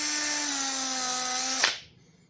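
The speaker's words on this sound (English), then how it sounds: "Dang, that's a new drill." A new power drill bores holes for a battery strap in a Daihatsu Scat dual-battery setup: a steady, close, high-pitched motor whine that cuts off abruptly with a short clunk, then near silence.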